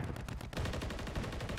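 Rapid automatic gunfire in a Call of Duty Warzone match set in Urzikstan, a dense burst of fast shots that pauses briefly and then resumes, quiet and at a distance.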